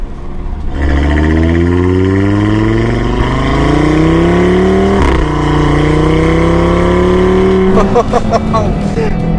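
Audi TT RS engine accelerating hard, a loud rising howl climbing through the revs with a sharp gear change midway and another shift near the end.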